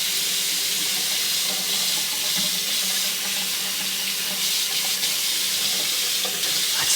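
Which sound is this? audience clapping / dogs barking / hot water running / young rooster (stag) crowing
hot water running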